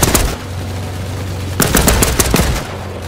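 Close, loud machine-gun fire in the war game Land of War, rapid automatic bursts with a short lull before a second rattling volley.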